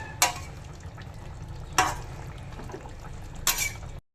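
Sole fish curry with cauliflower gets stirred in a pan with garam masala: three sharp scraping strokes at regular intervals over a low, steady simmering bubble, close and fairly quiet, with no voices.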